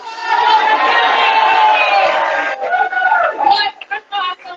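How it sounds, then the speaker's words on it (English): Large crowd at a Democratic political rally in Elkhorn cheers and chatters loudly in a dense, sustained roar, then thins into scattered voices and bursts of applause-like noise near the end. "What an awesome crowd."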